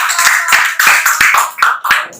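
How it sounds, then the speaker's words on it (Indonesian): Pupils in a classroom clap together, giving a short, loud, close burst of rhythmic hand claps that fades out after about two seconds. "Tepuk tangan dulu"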